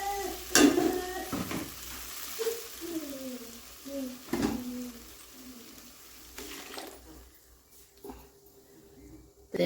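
Ground paste for a tomato kurma poured into a frying pan and stirred, with soft sizzling, scraping strokes of a spoon against the pan and occasional clinks, fairly close and moderately quiet.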